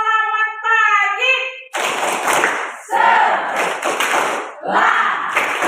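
A school class in Indonesia gives a rhythmic greeting clap for the morning: a short chanted voice leads into several loud, close bursts of group hand-clapping separated by brief pauses.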